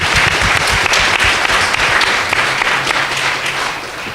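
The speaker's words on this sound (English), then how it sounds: "please, that deserves applause" An audience at a Black Lives Matter Newark gathering breaks into sustained, dense applause, steady and fairly close, tapering slightly toward the end.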